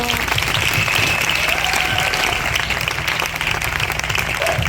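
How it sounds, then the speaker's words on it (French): Steady, dense applause from a crowd at a 25th wedding anniversary vow renewal celebration, loud and close, with many hands clapping continuously and evenly throughout. "Acclamons."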